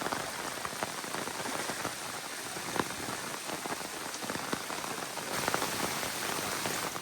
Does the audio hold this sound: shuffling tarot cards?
no